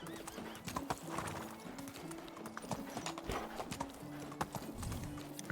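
Horse hooves clip-clop at a steady trotting rhythm in a video game, with an occasional whinny and a tonal musical drone running underneath throughout.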